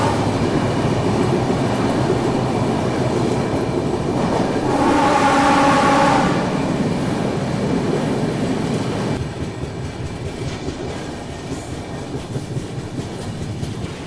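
Hamsafar Express passenger train running fast across the Godavari river bridge, a loud steady rumble with rhythmic wheel clatter that swells briefly midway, then settles to a lower roll; no speech.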